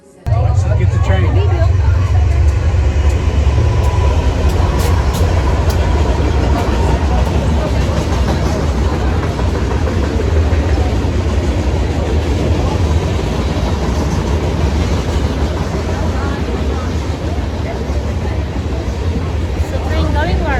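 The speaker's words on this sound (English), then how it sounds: "Let's get the train." A train ride at Chestnut Mountain Resort rumbles loud and continuous from the first moment, a steady low drone of rolling wheels with voices chattering throughout.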